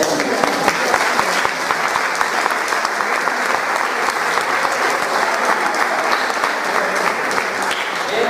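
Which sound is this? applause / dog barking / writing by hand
applause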